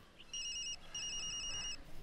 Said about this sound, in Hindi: फोन की आवाज और कंपन ने नींद को ज्यादा देर टिकने नहीं दिया।